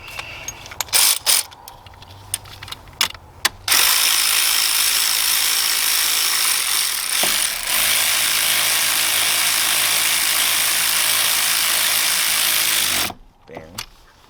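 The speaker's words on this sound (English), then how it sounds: "I just need to take ratchet. Lock it down." A hand ratchet tightens a spark plug on a 2000-2006 Chevy Suburban, starting with a few scattered clicks, then a long continuous close-up ratcheting whir lasting about nine seconds before stopping abruptly.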